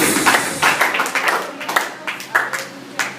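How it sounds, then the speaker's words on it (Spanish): A church congregation claps as an offering of applause, a series of loud, irregular claps and hand bursts close by, mixed with voices. "démosle la simiente de Dios, una ofrenda de palmas a Jesús."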